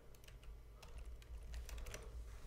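Quick, uneven clicks of typing on a computer keyboard, close but fairly quiet, tapping out in short bursts over a low background hum.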